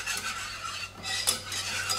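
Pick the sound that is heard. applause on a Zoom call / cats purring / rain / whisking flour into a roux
whisking flour into a roux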